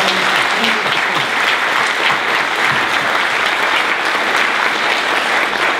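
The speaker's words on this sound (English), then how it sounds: "Let's have a round of applause for all our colleagues." Sustained applause from a staff meeting audience honoring colleagues, loud and dense clapping from many hands filling the room without a break.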